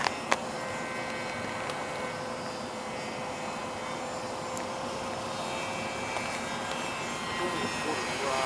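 A radio-controlled model airplane flies in cold winter weather, its small engine droning steadily at a distance with a thin sustained whine and no speech.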